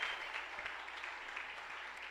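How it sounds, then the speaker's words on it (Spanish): A church congregation claps for the newly baptized during a prayer service, a steady, faint wash of applause with no break from start to finish. "Vamos a darle un fuerte aplauso a todos los que se bautizaron ayer."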